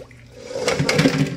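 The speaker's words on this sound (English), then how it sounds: "So I'm going to pour the water off." Water is poured off cooked food into a strainer, a short close gush that swells and splashes for about a second.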